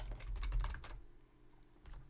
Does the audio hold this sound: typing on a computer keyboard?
yes